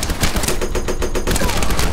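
Sustained machine gun fire in a war film battle scene with tanks, dense rapid bursts with booming impacts running loud and unbroken throughout.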